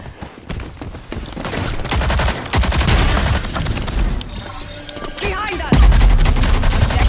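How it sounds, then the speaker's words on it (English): Rapid bursts of gunfire from a video game shootout, loud and continuous, dense overlapping shots with explosive booms throughout. "they be shooting quick"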